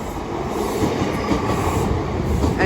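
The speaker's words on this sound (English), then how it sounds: "Train now going past is a double 156 going to Manchester Oxford Road" A double Class 156 diesel train bound for Manchester Oxford Road rumbles past Edge Hill station, a steady loud roar of wheels and engine filling the whole stretch, close by, with no talk.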